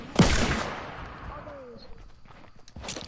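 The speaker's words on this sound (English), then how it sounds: "I'm gonna get him with my shotgun." A single sharp shotgun blast in a video game, loud and close at the start. It trails off into faint rustles, footsteps and game ambience, and a voice is heard alongside.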